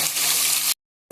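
Green chillies dropped into a hot pan hiss with a loud, bright sizzle that cuts off abruptly into silence, then briefly resumes, with no voices.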